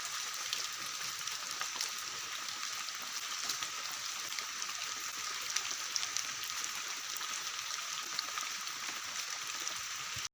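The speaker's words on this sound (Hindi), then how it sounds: "वर्षा हो" Steady, dense rain falling onto a farm field in an Odisha village, a constant hiss of drops with no pauses and no voices.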